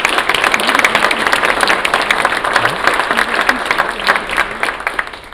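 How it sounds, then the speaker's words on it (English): A crowd gives loud, sustained applause for Vietnam veterans at a Tet Offensive 50th anniversary panel. Dense clapping fills the whole stretch evenly, close and strong, with faint crowd murmur mixed in. "Let's give them a round of applause and then ask them."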